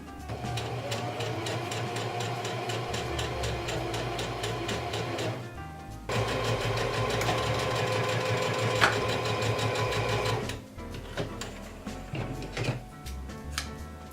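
A sewing machine stitching the front and back of a dress together, running in a steady, rapid mechanical whir with brief pauses around the middle and near the end; no talking.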